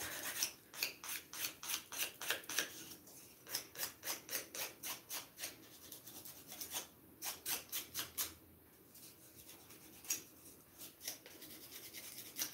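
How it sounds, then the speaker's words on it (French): A nail file rasps across fingernails during a semi-permanent polish manicure. Rhythmic back-and-forth strokes repeat steadily at close range, with a couple of short pauses and no talking. "Je prends ma lime là."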